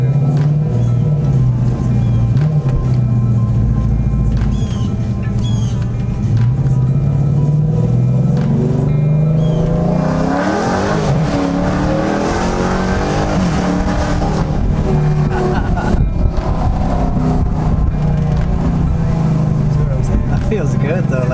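A car with headers and an active exhaust delete in track mode, heard from inside the cabin: a loud, continuous engine drone that climbs and rises in pitch through acceleration, then settles, with people talking over it.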